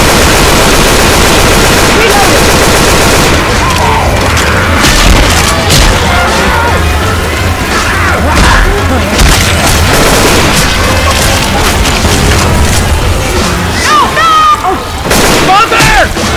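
Shotgun and rifle fire with heavy booms in Left 4 Dead 2 Realism Mode on The Quarter, a loud, near-constant barrage of shots and crashes while players shout and talk over it.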